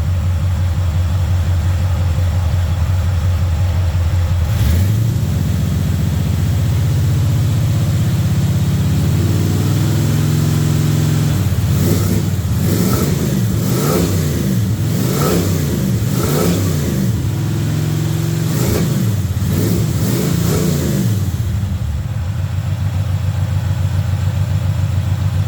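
A 1971 Chevy C20 truck's engine idles steadily after a cold start, then gets a series of repeated rising revs in quick succession before settling back to a loud, close idle.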